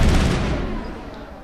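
Sniper rifle fire from the Mass Effect video game, a loud booming blast at the start that decays into a rumbling tail over about a second and a half.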